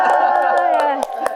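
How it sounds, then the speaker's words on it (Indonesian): A studio audience on upper stands, including an upper gallery, cheers and whoops loudly in a sustained crowd roar, with a few sharp claps near the end. "Wah, mana dong suaranya? Tepuk tangan dong."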